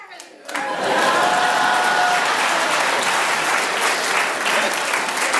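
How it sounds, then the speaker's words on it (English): Sustained studio audience applause on a comedy panel game show, starting after a brief quieter moment and then filling the rest as a dense, steady wash of clapping. "So a big round of applause for those 3"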